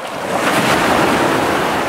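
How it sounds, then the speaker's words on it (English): Strong ocean surf rolls onto a beach in Siargao, a loud, dense wash of crashing water with wind buffeting the microphone, close and unbroken, with no voices. "the waves are really strong"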